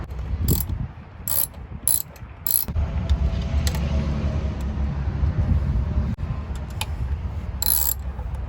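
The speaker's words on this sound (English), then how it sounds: "We're gonna take this, go around, very lightly snug them up." A ratchet snugs the valve cover bolts on a Mazda MX-5 Miata, giving short bursts of quick pawl clicks with pauses between bolts over a low steady background hum, close and clear.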